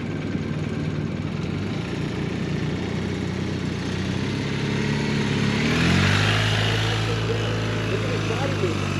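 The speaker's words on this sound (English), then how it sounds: "and listen to his throttle" A police motorcycle engine revs and rises in pitch during a slow-speed riding drill, its steady drone swelling with throttle before settling into a lower idle, loud and close throughout.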